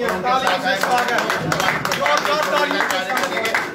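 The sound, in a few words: audience applause welcoming a new party member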